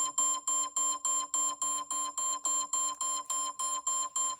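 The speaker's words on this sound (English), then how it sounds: "This triggers a push notification and an audible alert to the caregiver's phone." An iPhone belonging to a caregiver sounds an alert triggered by a sit-up monitor: a rapid, steady train of about fifteen identical electronic beeps, loud and close, with no voices.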